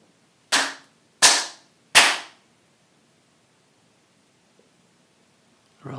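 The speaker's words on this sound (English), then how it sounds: "And now clapping our hands 3 times." Three sharp hand claps ring out during a quiet mindfulness exercise, evenly spaced and close, each one crisp with a short decay, followed by near silence.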